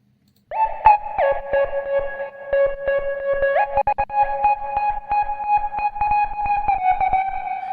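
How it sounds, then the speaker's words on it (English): A pure, smooth sine wave synth lead plays a simple melody with clean tones, stepping between notes with brief rhythmic breaks. "This lead sound is a very simple sine wave."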